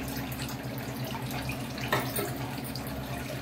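Dissolved tamarind water pours into a fish curry, heard as a quiet, continuous watery trickle with a small splash partway through and no voices.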